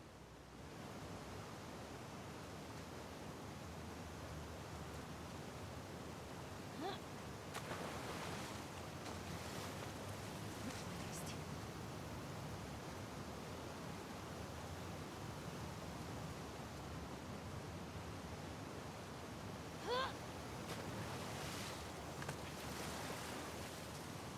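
Ocean waves in The Last of Us Part II wash in a continuous broad roar of surf and wind while swimming, with occasional brief splashes rising above the steady noise.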